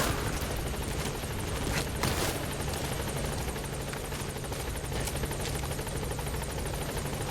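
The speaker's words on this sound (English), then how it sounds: "Helicopter has arrived." A helicopter in the video game Metal Gear Solid V: The Phantom Pain hovers close by, a loud steady rotor thrum with chopping blade pulses and faint bursts of gunfire mixed in, no talking.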